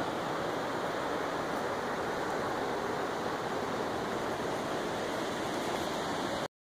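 Roaring river rushing steadily on an April hike along the Salmon River, a dense, loud, unbroken wash of water noise filling the whole clip with no voices.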